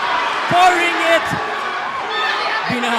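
A crowd roars at a live professional boxing event at Kumong Bol-anon XXIII in Bohol. The broad cheering swells beneath an excited commentator's voice, and a few sharp tones cut through.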